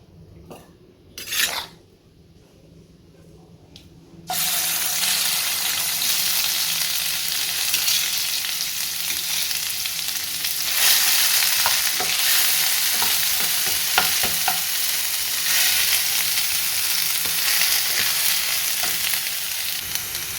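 Finely ground leaf paste hits hot oil in a pan. After a few quiet seconds with a light clink, a loud, sudden sizzle erupts and continues as steady crackling frying with intermittent stirring scrapes.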